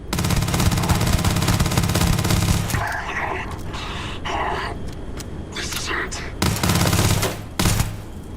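Rapid automatic gunfire in the Starfield video game, a dense loud burst that cuts out partway through, followed by scattered single shots and game sounds.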